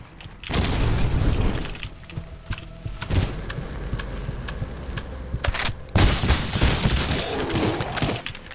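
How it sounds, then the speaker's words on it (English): A grenade explosion in the shooter game Cultic bursts loudly, followed by a dense stretch of rapid gunfire and booming impacts, with a second heavy blast partway through. "He threw a grenade."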